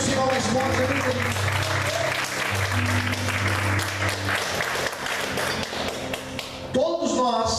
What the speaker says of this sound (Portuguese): Vamos aplaudir o Senhor mais forte